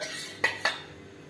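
A spoon clinks twice against a metal pot while finely ground spice powder and salt are mixed into the base for Malabar cucumber rice; the two sharp taps come close together over a low kitchen hum.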